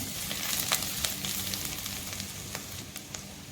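Chopped ginger frying in hot butter in a pan for shahi paneer, a steady soft crackling sizzle with scattered sharp pops, close and fairly quiet throughout.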